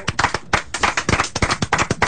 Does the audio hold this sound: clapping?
yes